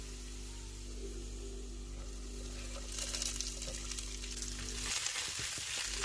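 Potatoes and chopped onions fry in a pan with a constant close sizzle and hiss, which turns louder and crackles more harshly toward the end.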